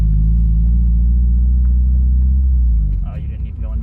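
A Subaru WRX with a manual gearbox pulls along a straightaway in second gear, its engine a loud, steady low rumble that eases off near the end as a voice speaks.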